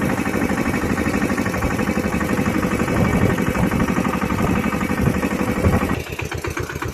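A New Holland tractor engine labours steadily while pulling a harrow through a field, a loud continuous mid-pitched drone with a slight change near the end.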